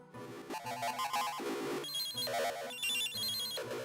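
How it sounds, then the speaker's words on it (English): A demented, evil-sounding Nokia cell phone ringtone plays alone, a loud, clear electronic melody of bright stepped tones repeating in short phrases for a few seconds, with no voices over it. "demented, evil Nokia cell phone"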